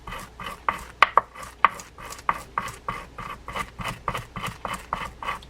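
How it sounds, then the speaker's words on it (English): A wire brush scrubs the spiral gear of a Shakespeare 2062 spinning fishing reel in steady, rhythmic rasping strokes, about a dozen close, crisp scrapes with a few sharper metallic clicks early on. "One more rub with that wired brush."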